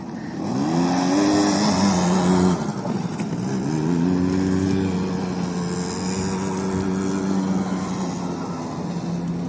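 A motorcycle engine drones past with a rising, revving pitch that swells and then eases as it moves by, loud and close.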